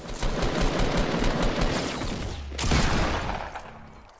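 Rapid pistol gunfire in a first-person shooter match, a dense burst of sharp shots running close and loud for several seconds, with a brief lull before another volley.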